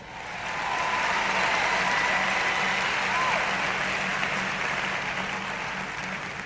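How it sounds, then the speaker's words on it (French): A large church audience applauds during a French-language sermon, with a steady, dense wash of clapping that swells in and holds loud and even for several seconds with no voice over it. "Allez, applaudissez Dave."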